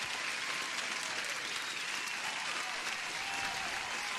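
Dense, continuous applause from a crowd, loud and even throughout with no pause, a bright wash of many hands clapping together.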